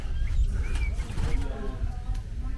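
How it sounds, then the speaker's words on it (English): Pigeons or doves cooing in a bird area at a Pontins holiday park, low murmuring calls close by under steady background noise and some talk. "Got some birds if you like them."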